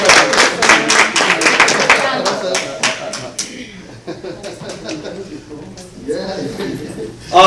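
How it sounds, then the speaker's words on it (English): An audience at a credit repair seminar gives a speaker a round of clapping, dense rapid claps that fade after a few seconds, followed by scattered chuckles and a voice talking. "One more round of applause."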